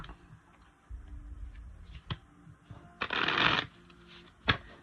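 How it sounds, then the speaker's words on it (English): Tarot cards riffle in a brief, crisp shuffle up close, with a few light taps and clicks before and after, and no talking. "Little shuffle."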